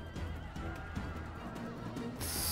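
A horse neighs and whinnies in the Rome Remastered strategy game, a faint but clear call over a dense battle din, with hoof clatter and rising noise near the end.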